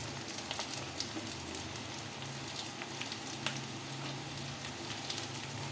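Slit green chillies and diced capsicum sizzling in hot oil while frying chilli chicken, a steady crackling hiss with occasional sharper pops, quiet and continuous with no talking.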